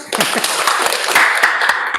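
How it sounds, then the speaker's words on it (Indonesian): Students in a classroom break into brief, dense clapping that starts abruptly and stays steady and fairly loud for about two seconds, with some voices mixed in. "Wes, tepuk tangannya."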